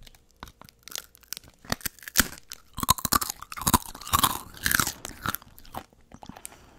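Crunchy natto snack being eaten up close, loud crisp crunches and chewing bursts in irregular rhythm, with brief crinkling of the packaging and no talk.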